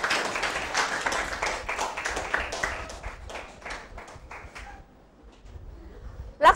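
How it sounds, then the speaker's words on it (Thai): Students in a Thai mathematics classroom clap for a classmate, a brisk patter of hands that thins out and fades after a few seconds, fairly faint and with no talk over it. "ปรบมือให้เพื่อนหน่อย"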